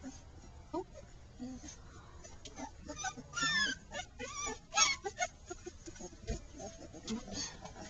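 Two-week-old puppies whimper and squeak in soft, irregular bursts, faint and close by, with a person speaking quietly alongside.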